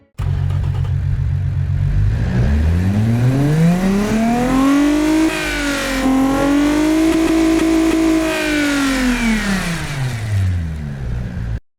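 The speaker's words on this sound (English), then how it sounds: "give you a listen of the stock automation engine right now" The stock V6 engine in the Automation car tycoon game revs up steadily, holds a high whine, then drops back down in one smooth, loud sweep with no talking.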